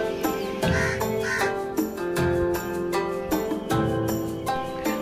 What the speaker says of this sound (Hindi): अब तो चिड़िया भी बोल दे रहा है कि सुबह हो गया है